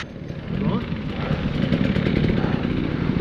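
A 2022 Husqvarna TE300i enduro motorcycle engine runs steadily nearby, its buzzing two-stroke drone holding a constant level throughout.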